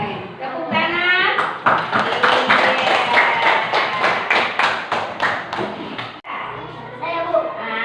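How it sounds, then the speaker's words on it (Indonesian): A burst of hand claps from a group of pupils in a classroom rings out over lively voices, rhythmic and sharp, then fades as talk carries on. "Tepuk tangan"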